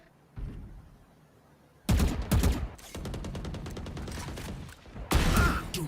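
Gunfire bursts in a competitive Valorant esports match: a sharp shot, then a loud rapid volley of automatic fire, a steady stretch of rattling shots, and a final heavy burst, all close and dense with no speech.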